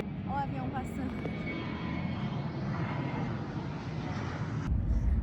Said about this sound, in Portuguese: Ó, o avião passando.